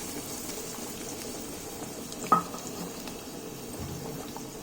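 Thinly sliced onions fry in a pan for mushroom masala, giving a faint, steady sizzle with a single brief clink partway through.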